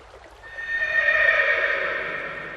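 A horse lets out a single long, loud neigh that swells and slowly fades, heard up close with no talking.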